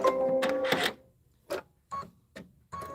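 Embroidery machine stitching at full speed, a close mechanical whirring and rattling that comes in short bursts separated by brief pauses, with no talking.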